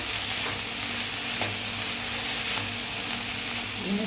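Mint and curry leaves sautéing in a pan make a steady, loud sizzle with a constant hiss and faint occasional stirring scrapes, no talking.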